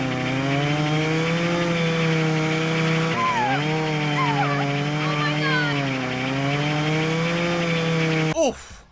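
A chainsaw in a horror movie scene drones loudly and steadily, its engine pitch wavering up and down, before cutting off abruptly near the end.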